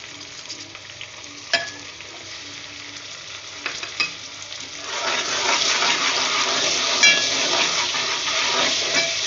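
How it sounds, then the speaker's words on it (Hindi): Garlic ginger paste hitting hot oil while cooking chana pulao, with a few sharp clinks at first, then a loud, hissing sizzle that swells and continues steadily as it is stirred nearby. "अब मैं इसमें डाल रही हूँ लहसुन अदरक का पेस्ट।"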